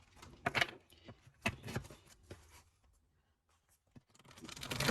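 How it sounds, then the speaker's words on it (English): Tarot cards shuffled by hand in several brisk riffling bursts with short pauses, then a quiet stretch and a building rustle at the end, close and alone. "we are going to shuffle your cards on camera"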